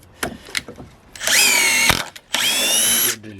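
A Makita DTD154 brushless impact driver bores into wood in two sustained bursts of a high, whining motor, each about a second long, after a few short clicks and knocks.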